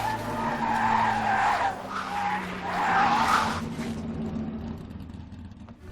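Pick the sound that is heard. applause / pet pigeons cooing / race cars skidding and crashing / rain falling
race cars skidding and crashing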